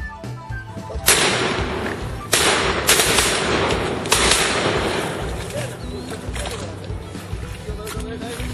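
Shotgun blasts ring out during a duck hunt on a river, four sharp loud reports spaced a second or so apart, each trailing into echo, with hunters talking between shots.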